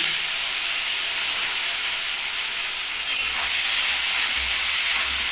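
Pointed gourd (potol) frying in hot oil, a loud, continuous dense sizzle and hiss with no break, close up.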